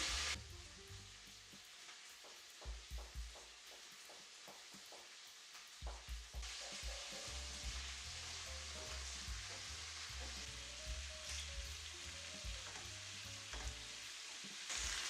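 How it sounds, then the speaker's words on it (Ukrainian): Carrot pieces sizzling steadily in hot oil while frying golden, with intermittent tapping and scraping as they are stirred in the pan. "І обсмажую до гарного золотистого кольору."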